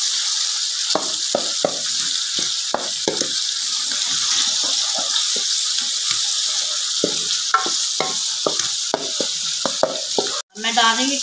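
Meat sizzles loudly and continuously in a pan, with frequent stirring clacks and scrapes of a utensil, close up, and no talking.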